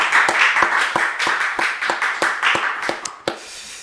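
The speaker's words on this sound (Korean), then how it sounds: "하나님께 영광의 박수 올려드리겠습니다." A congregation claps together during a Friday late-night worship service at a Korean church, about a dozen sharp, rhythmic unison claps in steady time, thinning and softening toward the end.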